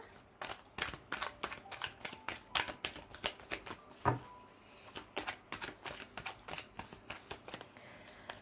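Tarot cards being shuffled by hand, a fast run of crisp riffling flicks and slaps close up, with a brief pause and one louder snap midway, no talking.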